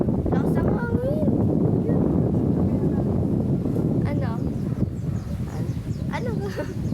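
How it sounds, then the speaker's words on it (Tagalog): Outdoor wind buffets the microphone with a constant low roar, while people chat and call out over it throughout. "Tapos ang hangin."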